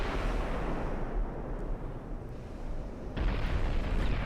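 Naval shell explosions from warship gunfire in Ultimate Admiral: Dreadnoughts, a deep rumbling boom sustained over several seconds with a second heavier blast partway through, dense and close.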